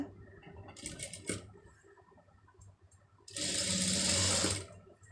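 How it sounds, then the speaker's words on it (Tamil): A sewing machine stitches a lace edge onto a sleeve, running in two bursts: a shorter whirring run early on, then a louder sustained stretch of rapid stitching before it stops, with quiet handling between. "இப்போ அப்படியே கரெக்டாக வச்சு அந்த ஓரத்து தையல் வந்து போட்டுட்டு வந்துடுங்க"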